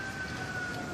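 Emergency siren outside during a storm, a single steady distant wail held throughout, faint and without talk.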